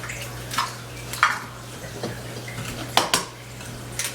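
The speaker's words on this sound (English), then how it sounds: "So I'm just gonna stir this together so that the salt and the baking soda and the sugar and the flour all mix together" A spoon stirs salt, baking soda, sugar and flour together in a bowl for a cake batter, giving scattered scraping clinks against the bowl over a steady low hum.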